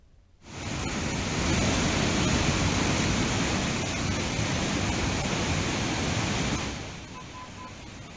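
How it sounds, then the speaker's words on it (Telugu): Heavy floodwater pours through twelve open gates of a swollen irrigation project dam in Telangana after heavy rains, a loud, dense, continuous roar that starts abruptly and holds steady before easing slightly near the end. "భారీగా వస్తున్న వరదతో 12 గేట్లు ఓపెన్ చేసి దిగువకు నీటిని విడుదల చేస్తున్నారు."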